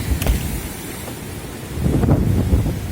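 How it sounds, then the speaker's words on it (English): Hurricane wind from Hurricane Zeta blowing outdoors, a loud continuous roar buffeting the microphone and swelling in gusts, with no talking. "The winds seem to be calming."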